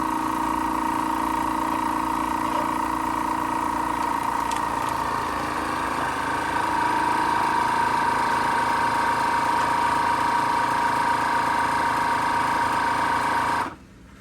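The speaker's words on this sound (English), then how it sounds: "make sure it locks down, and vacuum seal." A FoodSaver vacuum sealer pulls air from bags of raw meat with a loud, steady motor hum and whine that holds for about fourteen seconds, then cuts off abruptly.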